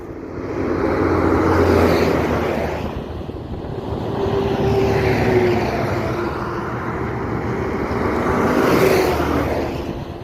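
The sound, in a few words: road traffic, passing vehicles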